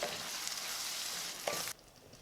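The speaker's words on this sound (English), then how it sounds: "Give it a stir." Diced canned tomatoes stirred in a hot cooking pan for butter chicken, a soft continuous sizzle with wet scraping that stops abruptly near the end.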